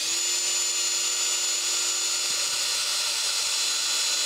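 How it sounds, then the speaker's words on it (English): A high-pitched drill whines steadily at a constant speed, drilling metal with a number 7 drill bit, close and continuous, with no voices present. "we're going to be drilling this with a number 7 drill bit"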